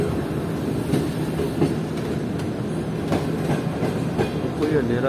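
A train rolls into platform 2 of Kothi Junction railway station at night, with loud steady rumble and repeated wheel clicks on the rails, sustained and close throughout.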